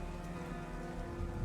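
Steady, dense rain falls across a ruined mech wreck in an Armored Core 6 scene, a constant hiss with a low rumbling undertone and no voices.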